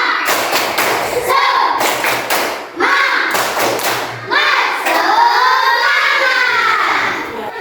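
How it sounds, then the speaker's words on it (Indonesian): A class of primary school pupils claps along to a chanted classroom clapping routine, thudding bursts of hands in rhythmic groups, loud and close, interleaved with the children's shouted chant. "Tepuk tangan bagi dua"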